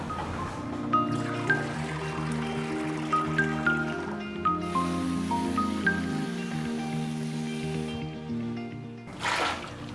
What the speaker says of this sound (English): Let me sieve out the water.